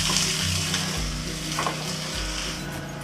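Sliced onion and garlic frying in a pan for eel adobo, a loud continuous sizzle with stirring scrapes and low bumps of the pan.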